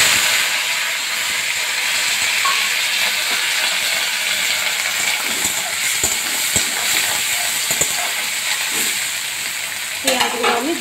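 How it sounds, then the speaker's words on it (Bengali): Onions frying in mustard oil in a pan for a chicken curry, a loud, continuous close hiss and sizzle with scattered stirring knocks and a clatter near the end, no voices. "এইবার আমি পেঁয়াজগুলো দিয়ে দিলাম।"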